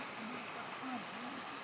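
Snowmelt water runs down from a mountain in Uttarakhand, a steady rushing, gurgling wash that fills the whole clip, with a faint voice talking underneath.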